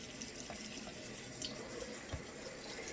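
Half a cup of water pours into a batter mixture of buttermilk in a home kitchen, a soft, steady trickling splash that is fairly quiet and continuous.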